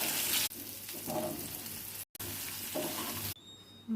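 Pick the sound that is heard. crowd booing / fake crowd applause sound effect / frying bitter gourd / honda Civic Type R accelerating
frying bitter gourd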